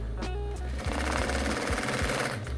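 An industrial sewing machine with a knee lifter runs in a design studio, a loud, close mechanical chatter with a rapid steady stitching pulse that briefly slows and restarts.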